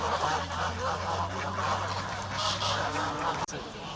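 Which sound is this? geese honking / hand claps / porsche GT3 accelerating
geese honking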